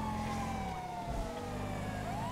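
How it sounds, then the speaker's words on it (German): A slowly gliding emergency siren wails steadily from a police vehicle in the video game GTA 5 with a police mod, loud and continuous over low engine rumble, with no talking. "Ich höre auch, glaube ich, schon eine andere Sirene."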